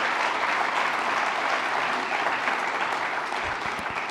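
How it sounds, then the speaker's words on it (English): At a Veterans Day program, an audience gives General Blaine a full round of applause, many hands clapping in a steady, loud, continuous wash that holds through to the end. "Another round of applause for General Blaine."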